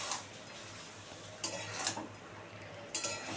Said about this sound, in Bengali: আবার একটু খুলে নেড়ে দেখি কেমন হলো।